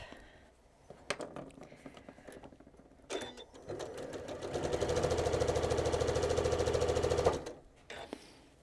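A sewing machine runs in a steady rapid stitching burst for a few seconds while sewing a leader onto fabric, preceded by scattered handling clicks and knocks, close and fairly loud.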